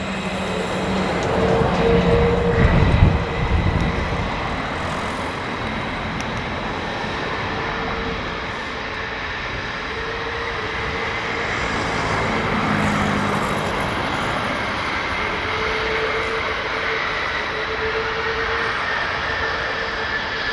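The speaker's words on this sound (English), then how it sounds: "these aircraft are being ferried long range." F-15 fighter jets being ferried long range, a steady broadband roar with a whining tone that holds throughout, a louder swell early on and a rising high whine near the middle, heard at a moderate distance.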